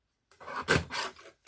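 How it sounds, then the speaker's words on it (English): A small paper trimmer slicing through card for a handmade floral card, heard as a few close, dry rasping strokes in quick succession with brief pauses, quiet and alone. "So now I just want to trim that, so I'll just get my little trimmer"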